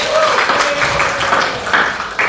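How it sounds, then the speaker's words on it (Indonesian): An audience applauds a presenter named Andri during a teaching session on computational thinking, the clapping fairly loud and steady for a couple of seconds, with a voice partly audible over it. "Tepuk tangan untuk Andri."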